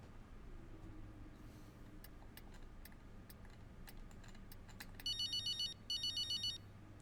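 A phone in the racing game F1 23 ringing twice in electronic trilling bursts near the end, over a steady low hum, with faint scattered clicks earlier on.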